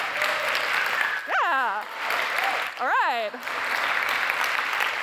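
Audience applause fills a conference talk hall at a tech leadership event, steady and broadband throughout, with a voice speaking briefly over it midway.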